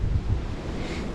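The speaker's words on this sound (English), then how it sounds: "It's horrendously windy, which makes it, of course, cold." Strong, cold wind of about 30 to 35 mph buffets a microphone in an open South Dakota field during a pheasant hunt, producing a loud, continuous low rumble that fills the whole moment with no voices.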